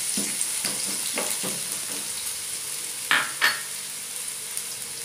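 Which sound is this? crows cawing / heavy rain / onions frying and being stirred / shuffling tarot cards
onions frying and being stirred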